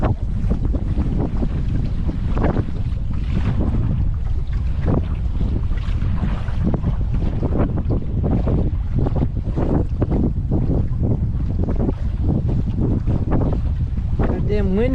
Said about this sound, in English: Goddamn wind could die down